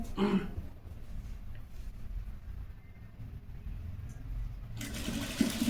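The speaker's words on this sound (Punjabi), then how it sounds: "ਇਹ ਉੱਪਰ ਸਲਾਈ ਲਾਉਣੀ ਹੈ" A sewing machine stitches lace onto a kameez, giving a steady, fairly quiet mechanical whirr, with louder bursts of running at the start and the end.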